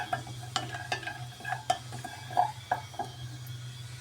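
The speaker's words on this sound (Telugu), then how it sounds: "నెయ్యి వేడయ్యాక డ్రై ఫ్రూట్స్ వేసేసుకున్నాము. లో ఫ్లేమ్లో ఫ్రై చేసుకుందాము." Dry fruits fry in hot ghee over a low flame, a soft, quiet sizzle broken by scattered light scrapes and clinks of a spoon against the pan.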